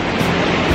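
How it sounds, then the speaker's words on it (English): Ocean water washing in and swirling around lava rocks on a Hawaiian shoreline at sunrise, a close, steady broadband wash of surf with no voices. "Water sort of comes in, swirls around a bit and leaves"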